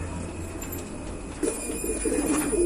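Pigeon cooing close by, soft low throaty coos starting about halfway through over a faint steady background hum, with a few light rustles.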